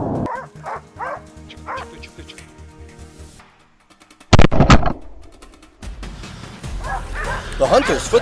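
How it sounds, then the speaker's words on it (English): Hunting dogs on a wild boar hunt barking in rapid rhythmic yips and bow-wows, close and loud, with a burst of sharp barks and whimpering, while people talk in the background. "the sharp barks of the hunting dogs echoed loudly."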